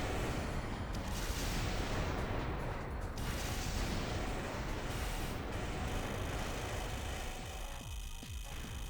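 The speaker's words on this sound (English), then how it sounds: "this won't end well if I miss all of my laser cannon shots" Laser cannon fire and combat in the PSP mech game Armored Core Formula Front, a dense, continuous roar of blasts and mechanical noise that stays loud throughout, with bursts of crackling hiss near the start and middle.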